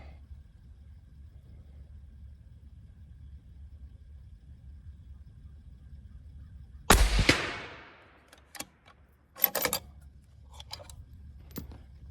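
A single loud 25x47 rifle shot cracks out after quiet, with a ringing decay, followed by softer clicks and clatter of the action being worked, all outdoors and without speech.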